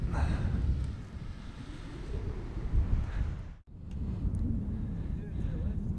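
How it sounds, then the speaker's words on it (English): Wind gusting across an exposed mountain campsite in the Cairngorms, a steady broadband rush with buffeting on the microphone, easing briefly for an instant before returning, with no talk over it. "the wind's picked up ever so slightly"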